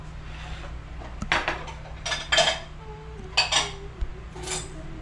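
Salmon and bell pepper mixed in a pan with a utensil, giving close intermittent clinks and scrapes against the metal over a low steady background hum.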